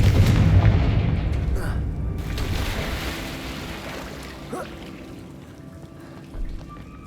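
A Confringo fire spell explodes in Hogwarts Legacy with a deep, heavy boom at the start that rolls into a fading rumble and softer debris noise over several seconds.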